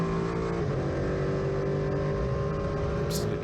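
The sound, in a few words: Duqueine D08 prototype race car engine from the cockpit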